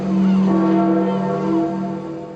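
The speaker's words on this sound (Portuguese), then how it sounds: "Os sinos da Basílica de São Pedro marcaram a saída da urna para o exterior." Bells of St. Peter's Basilica in Vatican City ring during a funeral procession, a loud sustained tolling tone with lingering hum, heard alone for a couple of seconds.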